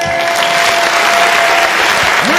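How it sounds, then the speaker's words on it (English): Boxing crowd at a fight night roars and applauds loudly and continuously, a dense close wall of screaming and clapping with no break. "The crowd is absolutely screaming"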